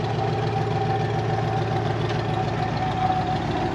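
A Corvette drift car's engine idles steadily and up close, a deep rumbling hum with an even pulsing throb, loud and continuous throughout with no talk over it.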